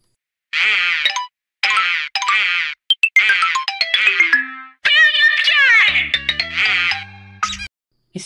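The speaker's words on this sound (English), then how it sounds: "Speaker sound variation." Cocomelon intro jingle in a speaker-style variation: a bright, chirpy sequence of synthetic ringtone-like boings and dings in short bursts with brief gaps, ending in a lower buzzy tone pattern.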